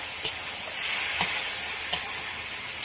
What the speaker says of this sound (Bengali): সর্ষে বাটা দিয়ে কিছুক্ষণের জন্য এটাকে ফোটাবো